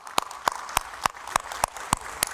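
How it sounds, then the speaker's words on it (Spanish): Slow, evenly spaced hand claps in a church service, about eight sharp claps over a couple of seconds, fairly distinct and without other sound. "Démosle un aplauso a Dios"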